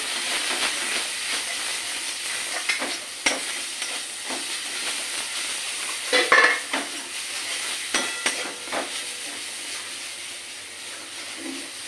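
Spice masala with Kashmiri chili powder fries in a pan for a Bengali doi potol dish, a continuous hiss and sizzle broken by occasional spatula scrapes and clinks, with one louder burst of sizzling midway.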